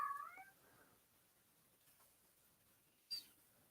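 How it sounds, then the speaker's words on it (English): A pet cat gives a short high meow close to the microphone at the start, then a faint chirp later, in an otherwise quiet room. "and so if you hear him in the background, that's one of our cats"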